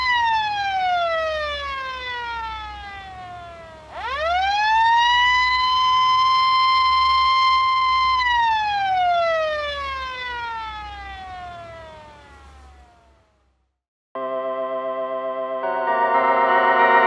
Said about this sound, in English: Sheriff Murphy turns on the siren and they rush down to Cherry Lake.